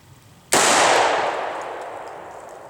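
A Taurus Judge revolver fires a field load at a target, a single sharp, loud close report followed by a long reverberant decay outdoors.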